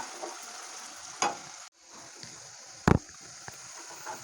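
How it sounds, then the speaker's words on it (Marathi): Onions fry in a pan for egg curry, a soft, steady sizzle running through the whole stretch, with a few sharp clinks or scrapes of a utensil standing out against the quiet background. "गुलाबी कलरवर येईपर्यंत आपण फ्राय करून घेऊया"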